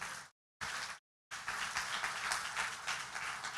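A church congregation at a family congress claps in a short burst, falls briefly silent twice, then breaks into sustained, fairly distant applause that carries on to the end.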